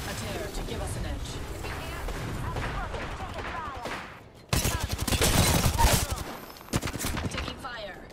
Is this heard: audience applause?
no